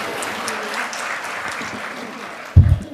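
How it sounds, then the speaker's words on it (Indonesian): An Indonesian audience applauds throughout, a steady moderate clapping, ending with a sudden loud thump near the close. "Wah, tepuk tangan semuanya."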